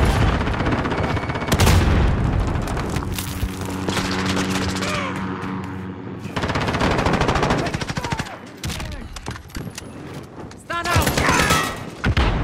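Machine-gun bursts and heavy thumping blasts, including a grenade explosion, in the shooter Call of Duty: Modern Warfare, loud and close, with in-game voices and callouts between the volleys.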